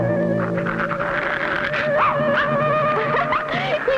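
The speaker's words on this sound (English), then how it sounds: "He's barking at that awful-looking face." A cartoon dog barks and whimpers at an ugly mask, its voice rising into yips and howl-like wails over a steady tonal music bed, close and continuous with no talking.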